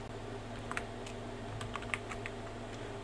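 Quick bursts of typing on a computer keyboard while entering a hot-key binding command in FiveM, with irregular clustered key clicks over a steady low hum and no talking.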